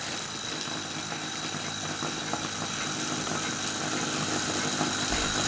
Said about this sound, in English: As you can see, the engine is turning over quite fast